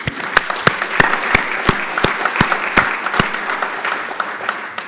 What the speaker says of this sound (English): Please join me in an applause for our judges